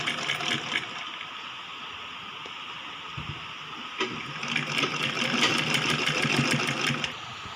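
A sewing machine stitches a folded piece of a baby frock: a continuous close mechanical whir with a brief pause partway through, then a faster, louder run before it slows and stops, no talking.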